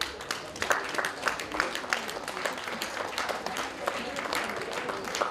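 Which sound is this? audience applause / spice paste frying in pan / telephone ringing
audience applause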